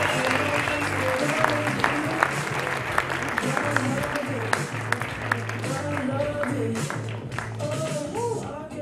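Steady applause from a stand-up comedy audience at Foro Cultural Coyoacanense in Coyoacán, dense and continuous with scattered sharper claps, over faint background sound for the full span.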